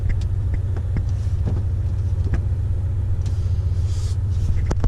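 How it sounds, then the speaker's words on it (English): Car with an LS4 V8 engine and a warmed transmission on a test drive in freezing weather, heard from inside as a steady low engine rumble with road noise and occasional light clicks, no speech. "we're gonna take it for a test drive"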